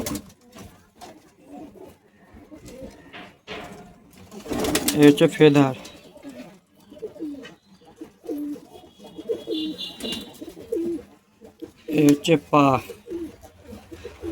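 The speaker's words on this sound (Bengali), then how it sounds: "দুটো করে পায়রা ধরে তোমাদেরকে দেখাচ্ছে" Pigeons are handled and shown off, their soft cooing and rustling wing flaps heard up close beneath steady talk, with a couple of louder flurries of fluttering.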